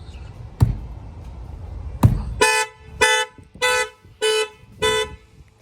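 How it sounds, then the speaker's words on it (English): Two dull thuds on a tire of a 2020 Mercedes E350, then its car alarm starts honking in five evenly spaced loud blasts, close by. "I'm going to go ahead and hit the tire."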